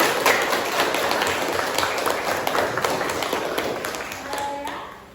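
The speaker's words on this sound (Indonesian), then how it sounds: "Tepuk tangan dulu untuk kita semua." An Indonesian class claps together in a steady, busy round of applause during a teaching session. The clapping stays fairly loud, then thins out near the end.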